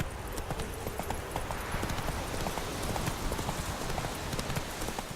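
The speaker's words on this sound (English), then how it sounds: "I also got an advanced saddle so our horse doesn't tire out as quickly" Steady galloping hoofbeats of a horse in The Witcher 3: Wild Hunt, in a fast, even rhythm, close and fairly loud, continuing throughout with faint background noise.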